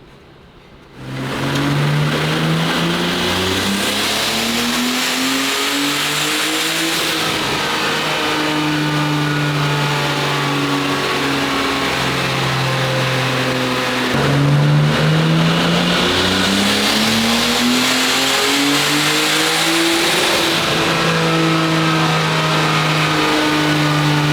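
A race car engine revs hard on a dyno, rising in a loud, sustained climb, dropping back, then climbing again across several long pulls. The roar is close and continuous, with no talk.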